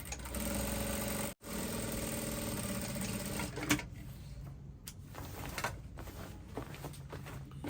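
A domestic sewing machine runs steadily, stitching fabric for a drawstring dress down to the hem line, with a brief pause near the start and lighter, uneven mechanical whirring and clicks toward the end.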